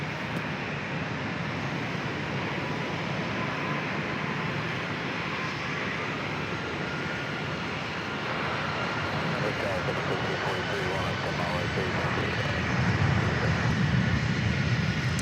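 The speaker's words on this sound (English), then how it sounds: "Lined up there is Delta Airlines Flight 2508 heading to Seattle, 737-800" Delta Airlines Boeing 737-800 jet on the runway at San Diego airport, a loud continuous engine roar that swells toward the end, heard from a distance with no voices.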